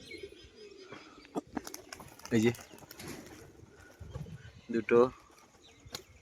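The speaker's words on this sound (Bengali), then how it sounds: "এই হচ্ছে মাদি পায়রাটা" Female pigeon cooing up close in a loft among other pigeons, two short throaty bursts a few seconds apart, with someone talking throughout and faint chirps and wing flutters around.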